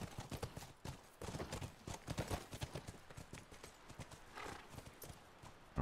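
In The Last of Us, horse hooves clip-clop steadily over ground, with a whinny rising among the dense, busy hoof beats.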